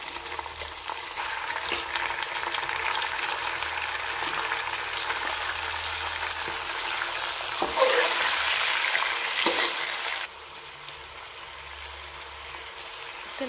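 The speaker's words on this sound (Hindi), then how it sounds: "प्याज गोल्डन ब्राउन हो गया, चिकन पा लें, चिकन का कलर चेंज होने देंगे।" Chicken frying in a pan with golden brown onions: a soft steady sizzle with occasional stirring scrapes, rising slightly around the middle before dropping to a quieter, even fry.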